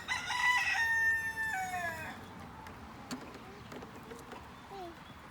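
A rooster crows loudly at the start, with clucking chickens around it and a few scattered clucks fading later in a farm coop.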